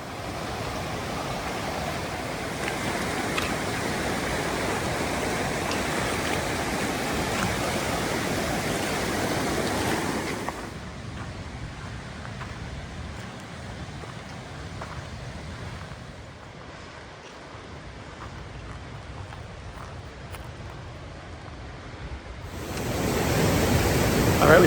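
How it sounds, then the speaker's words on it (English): The North Fork Creek rushes over rocks at a Pacific Crest Trail crossing, giving a steady, close, full-bodied roar that eases midway and then swells louder again near the end. "We've got our first water crossing of the day, the North Fork Creek."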